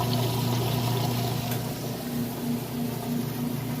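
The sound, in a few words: washing machine draining wash water before rinse cycle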